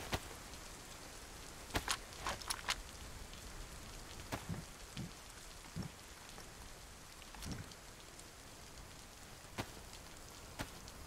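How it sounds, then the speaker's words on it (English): Rain falls in a video game, a soft steady patter with scattered sharper drops and clicks, quiet and without speech. "Sounds like the rain's calming down."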